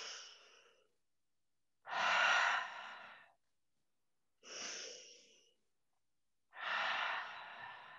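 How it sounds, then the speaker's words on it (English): Deep clearing breaths at the close of a yoga practice: four long, loud exhales or inhales with pauses between, fairly close and heard alone without talk. "we end today's practice with our 3 clearing breaths"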